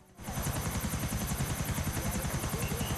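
Helicopter in the video game GTA IV, a steady, loud rotor with fast rhythmic chopping that starts abruptly and continues evenly, with no speech.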